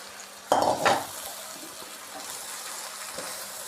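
Vegetables and cabbage fry in a pan for macaroni, with a brief clatter of stirring utensils against the pan followed by a soft, steady sizzle.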